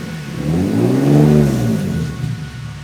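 A BMW E30 with a swapped S52 engine and individual throttle bodies accelerates at partial throttle, its close, loud intake note rising in pitch then easing off as the revs fall back.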